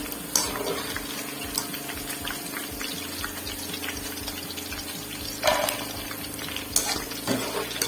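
Okra fries crisply in hot oil with a steady bubbling hiss, speckled with sharper pops and a few louder spits, moderately loud and close with nobody talking.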